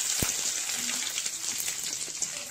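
Fennel seeds and garlic fry in oil in a pan, a light, crackling sizzle with scattered pops, moderately loud and steady, after a single short knock near the start.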